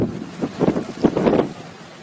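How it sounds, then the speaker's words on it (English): Breezy outdoor wind buffeting the microphone in gusty low rumbles that swell and fade over two seconds, with no one speaking. "It is quite breezy up here."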